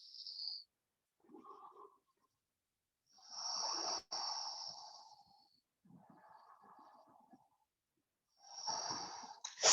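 Deep breaths during a yoga flow, several slow inhales and exhales heard close up with airy, wheezy and snort-like texture, separated by quiet gaps.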